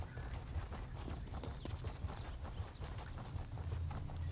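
Horses' hooves clip-clop along a trail in Elder Scrolls Online, a soft continuous patter of many hoofbeats at moderate distance with no talk.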